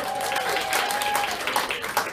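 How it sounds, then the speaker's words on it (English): A stand-up comedy audience claps steadily and loudly throughout, with a few scattered cheers mixed into the dense applause. "You don't have to save your applause."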